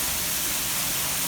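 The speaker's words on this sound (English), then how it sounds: "Downspout is overwhelmed." Flash flood water in Chicago pouring from an overwhelmed gutter downspout: a dense, loud, unbroken rush of falling water, close and steady, like a small waterfall.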